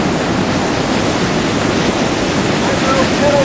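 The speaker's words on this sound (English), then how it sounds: "Down below is the Coquihalla River" The Coquihalla River rushes through a rocky gorge far below, a loud, steady broadband roar of churning whitewater that fills the whole stretch without a break.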